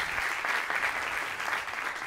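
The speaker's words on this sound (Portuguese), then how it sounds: "Um forte aplauso também para o Hugo Soares." An audience at a stand-up comedy show applauds, a dense, steady wash of clapping heard close and loud for the whole stretch.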